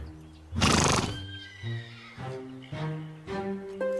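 A cartoon horse named Diablo whinnies loudly in a long, shaky neigh, followed by several shorter whinnying calls and snorts spread across the next few seconds. No voices are heard.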